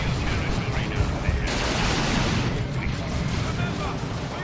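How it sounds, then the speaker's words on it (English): Grenades burst in a Dawn of War 2 battle, with rumbling, noisy blasts layered over continuous combat din that swells midway, loud and dense, with a voice faintly present beneath. "the Cataclysm Devils also throw a nice round of grenades into that squad as well"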